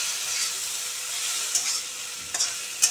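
Pieces of pumpkin fry in a pan with a steady sizzle and hiss, and a few sharper clatters of stirring come through near the end.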